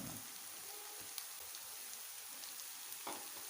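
Aloo bhindi masala of potatoes and okra sizzling and frying in a pan with fresh coriander and green chili, a steady faint crackling hiss with occasional soft stirring knocks and no voices.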